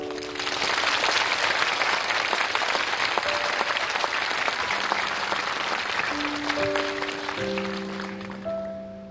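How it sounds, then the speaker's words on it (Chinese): A studio audience applauds at a televised talk with a Baidu chairman, sustained dense clapping that slowly fades while a sustained musical tone rises beneath it toward the end. "谢谢大家的掌声"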